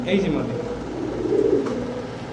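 Pigeons, including a silver male, coo softly and repeatedly close by while a person talks over them.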